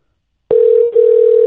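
An unanswered outgoing phone call, a loud steady electronic ringback tone that starts abruptly after a moment of silence, briefly dips, then continues alone without any voices.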